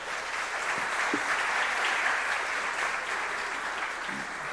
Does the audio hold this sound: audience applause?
yes